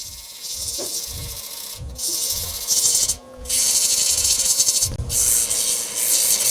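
Lathe gouge shaping a walnut bud vase from scrap wood, a steady loud hissing scrape of the tool cutting the spinning wood, with a few short pauses where the cut lifts off.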